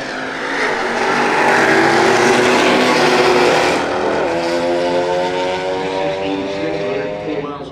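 A Jeep Trackhawk and a Mazda RX-7 FD race down a dragstrip. Loud engines roar past at close range, and the pitch climbs sharply midway as the cars accelerate.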